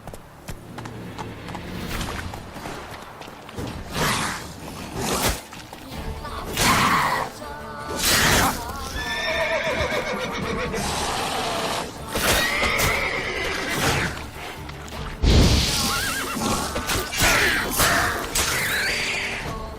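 A horse in The Witcher 3 video game gallops with thudding hoofbeats and lets out several loud whinnies, mixed with game effects and scattered crashes, fairly close and busy throughout.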